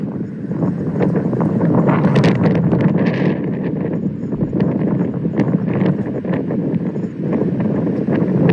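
A sidewinder tornado near Westmoreland, Kansas approaches as a continuous, heavy rushing roar with buffeting wind blasts and scattered rattling hits, loud and close throughout.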